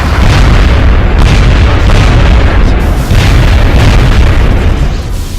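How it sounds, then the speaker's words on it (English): Sectopod robots blowing up in the game XCOM: Enemy Unknown, a very loud, sustained roar of booming explosions with rumbling surges throughout. "Sounds of Sectopods exploding."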